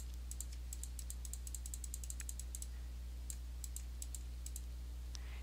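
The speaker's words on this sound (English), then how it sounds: "we can get to that point real easily by clicking these arrows" Faint, quick computer mouse clicks tap in an irregular rhythm as on-screen arrows in embroidery design software are clicked, heard alone over a steady low hum.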